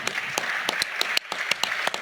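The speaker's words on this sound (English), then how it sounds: "And applause." Applause in the European Parliament for the Belarus opposition: a hall full of people clapping in sharp, uneven bursts, close and fairly loud, with no talk over it.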